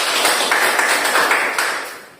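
An audience at a teaching session gives a loud, dense round of applause, a steady close crackle of many hands that tapers off toward the end.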